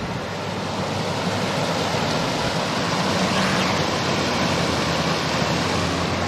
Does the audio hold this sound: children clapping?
no